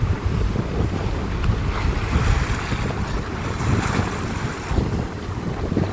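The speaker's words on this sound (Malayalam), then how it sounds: "കടലാകെ പ്രശ്നമാണ്, നല്ല കാറ്റാണ്." Strong wind buffets a fishing boat out on a rough, choppy sea, a loud continuous roar of gusts and wind noise on the microphone over the slap and wash of churned water, with no voices.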